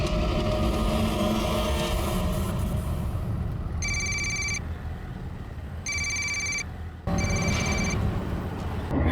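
A phone rings during an outgoing call: three evenly spaced bursts of a bright electronic ring, each under a second, over a steady background hum with no talking.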